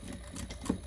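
A sewing machine back stitches along zipper tape on a small makeup pouch, a faint, brief burst of quick mechanical needle chatter lasting under a second with one slightly louder knock near the end.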